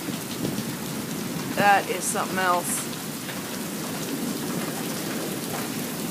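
Heavy rain hisses steadily on a porch during a night thunderstorm, a constant wash of sound, while someone speaks briefly partway through.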